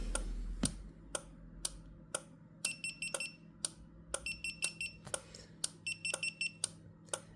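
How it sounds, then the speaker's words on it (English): Viper car alarm set off on a test bench: sharp, regular clicking ticks with bursts of rapid high electronic chirps repeating every couple of seconds, fairly quiet and close, with no talking. "I'm going to trigger the alarm."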